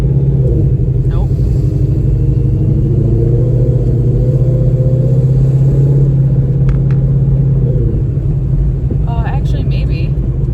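A truck with a 10R80 automatic transmission drives slowly in normal drive mode, its engine a steady loud drone that shifts pitch as a gear change comes near the end, with faint voices underneath.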